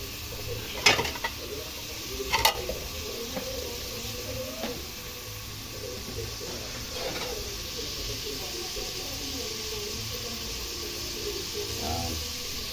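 Food frying in a pan and being stirred, a steady bright sizzle with a few sharp utensil scrapes early on, close and moderately loud, with a person speaking.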